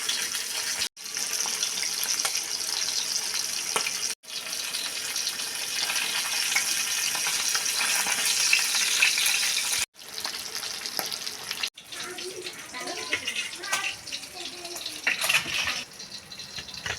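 Pabda fish coated in salt and turmeric fry in oil with a loud, continuous sizzle and crackle that lasts throughout, broken by a few brief cuts.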